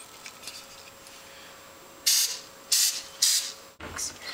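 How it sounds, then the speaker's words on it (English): Cooking spray such as Pam hisses in three short bursts onto a hot, steaming waffle iron while Belgian waffles are made, each spray loud and close. A faint steady hum runs underneath, and a brief clunk follows. "you'll need to spray some Pam on it"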